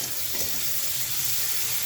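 Seven or eight shrimp fry with browned onions in a pan, giving a steady, close sizzle with no talking.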